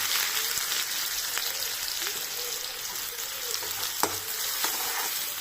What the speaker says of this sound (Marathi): कांदा चांगला तळून घ्यायचा कांदा आपला तळत आला आहे